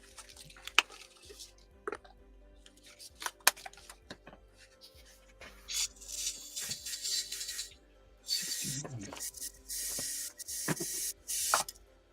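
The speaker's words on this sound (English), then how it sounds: "Spraying red, take 2." Airbrush spraying red paint onto a 1/72 scale Eduard (Revell) Tornado GR1 model, a steady hiss in several bursts that grows longer and louder toward the end, with small clicks and handling noises between them.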